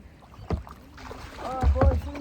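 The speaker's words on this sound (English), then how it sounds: "you can paddle away now" A kayak pushed off and paddled at an oyster farm in Australia, with a few splashy paddle strokes and hull knocks on water close by, under people talking.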